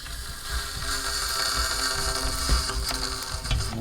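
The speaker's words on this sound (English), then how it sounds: "Let's turn the valve until I hear the air flowing" A CO2 inflator pushes gas into a bicycle tire with a steady, close, loud hiss of rushing air, threaded with faint clicks and rattles from the valve.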